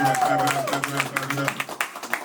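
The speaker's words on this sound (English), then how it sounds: "Y'all put your hands together." An audience at a live verbal debate event claps in a loose, fairly close burst for a debater, the clapping growing more distinct as a voice fades out at the start.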